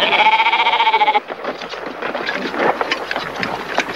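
Sheep bleat during a summer round-up, where the flock is gathered for worming, treatment and shearing; a loud, sustained tonal bleat opens, then gives way to a busy mix of overlapping animal cries and shuffling noise.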